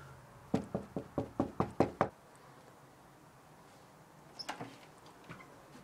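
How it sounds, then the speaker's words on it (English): Knocking on a house door: a quick series of about seven sharp, close knocks, followed after a pause by a softer, shorter cluster of knocks. "we're gonna knock on his door"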